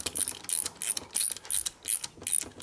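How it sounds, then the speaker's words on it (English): A ratchet wrench clicks in quick repeated strokes, tightening bolts on a Harley shovelhead top end of a 1983 FXRT 80ci. The bursts are close and evenly paced, with no talking. "You need a longer wrench. Get some more leverage in there."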